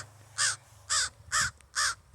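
A crow caws four times in a slow, evenly spaced series, each call loud and close against a quiet evening background with no voices.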